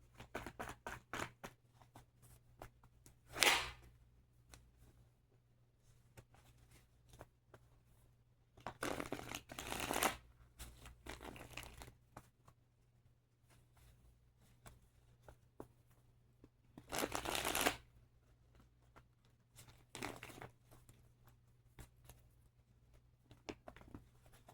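Tarot cards being shuffled during a reading, quiet close-up riffling and sliding in several separate bursts with soft taps and low hum between them.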